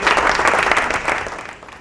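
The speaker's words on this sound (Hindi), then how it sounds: "सही जवाब, तालियां हो जाए जी इनके लिए।" Studio audience clapping on a Ramadan quiz show after a contestant answers correctly, a short lively burst of many hands that fades out within two seconds.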